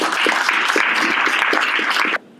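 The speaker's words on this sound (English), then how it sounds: "give that a round of applause" A crowd claps steadily for a couple of seconds, dense and lively, then the applause cuts off abruptly.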